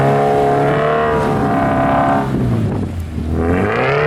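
Naturally aspirated 2.0-liter FA20 boxer engine of a Subaru BRZ pulling hard under acceleration, a loud, steady droning engine note with rising harmonics that dips briefly near the end before climbing again.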